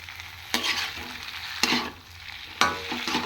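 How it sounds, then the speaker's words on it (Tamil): Spring onions are tossed into cauliflower manchurian in a hot pan. Three loud stirring scrapes stand out over a continuous bubbling sizzle nearby, with no talking. "இப்போ வெங்காயத்தாள் போட்டுக்கணும்."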